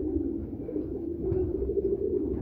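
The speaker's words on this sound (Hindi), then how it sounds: "एक नंबर 79 वाले कबूतर बेहतरीन और ओरिजिनल हालत के अंदर आपको दिखाए जा रहे हैं" Steady low cooing from breeder pigeons of the number 79 line, a continuous murmuring close by with no voices.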